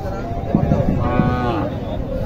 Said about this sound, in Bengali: শাহিওয়াল ষাঁড় বাচ্চাটা